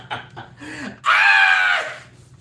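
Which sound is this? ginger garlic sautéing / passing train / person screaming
person screaming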